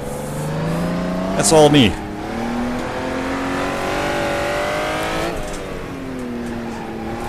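A Honda NSX engine revs hard on a kart circuit, its tone sweeping up and down through gear changes, with brief tire squeal; someone talks briefly over the engine.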